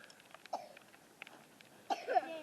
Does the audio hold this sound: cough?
yes